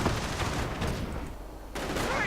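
Sniper and small-arms gunfire in a real-time strategy battle game, a dense crackling volley of overlapping shots with faint distant booms, continuous over the short stretch.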